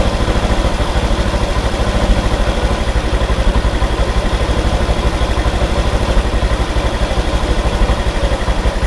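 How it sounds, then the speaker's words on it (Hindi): A motorcycle engine idles steadily after a mileage setting adjustment, an even, rapid chugging pulse close by and loud, running alone without voices. "बाइक बिल्कुल आइडलिंग पे चल रहा है"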